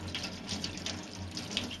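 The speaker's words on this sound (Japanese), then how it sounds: "そうしたらこれを流水で軽く洗います。" Kusaya dried fish rinsed under running tap water at a sink: a steady, moderately close splashing stream with small fluctuations as the fish is turned beneath it.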